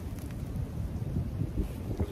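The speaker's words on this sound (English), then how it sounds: "it's really windy today" Strong wind buffeting a microphone outdoors on a farm, a low rumbling gusty roar that stays loud and continuous for the whole short stretch.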